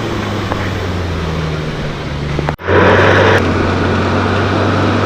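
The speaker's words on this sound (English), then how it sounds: "Here comes the Land Cruiser." Toyota Land Cruiser driving on a soft sand beach, a loud steady engine drone that cuts out briefly, then returns stronger as the vehicle nears.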